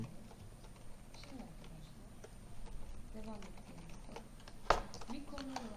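Typing on a computer keyboard while setting up a robotics simulation, with soft, fairly quiet key clicks and one sharper tap under steady Turkish talk.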